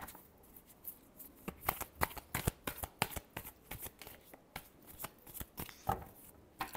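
A deck of tarot cards is shuffled up close, a rapid run of crisp riffling flicks and soft slaps in an irregular rhythm, with no voices.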